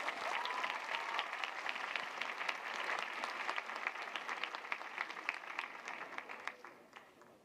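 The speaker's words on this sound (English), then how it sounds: "Round of applause." A crowd at an interreligious meeting of young people with Pope Francis in Singapore applauds steadily, a dense patter of many hands clapping that holds for several seconds before starting to taper off.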